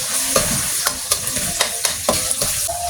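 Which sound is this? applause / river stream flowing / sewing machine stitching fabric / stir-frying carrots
stir-frying carrots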